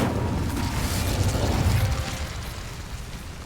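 An Incendio fire spell cast in a video game, a loud, roaring whoosh of flame with a low rumbling body that swells and then slowly fades.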